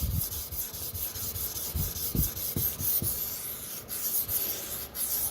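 A Sabatier paring knife scrubbed across a Shapton 500 grit stone, close rubbing strokes in a quick irregular rhythm, each pass a soft gritty rasp, with no voices.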